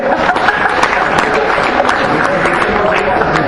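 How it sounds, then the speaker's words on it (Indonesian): Workshop audience at a book discussion applauding for Pak Romi, the author, a loud close burst of dense clapping that stays steady throughout with faint murmuring beneath. "Tepuk tangan lagi buat Pak Romi."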